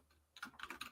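Quick keystrokes on a computer keyboard, a short burst of soft clicks after a near-silent pause, close and quiet.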